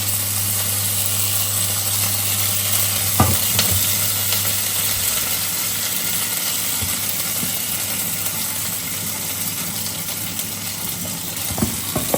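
Meat warming in a cooking pot, a steady close hiss and low hum like a burner running, with a couple of faint knocks partway through and near the end.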